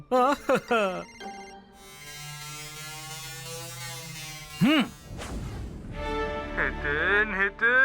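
A phone rings with an incoming call, a loud buzzing electronic ringtone heard in bursts close by, with people talking before and after it.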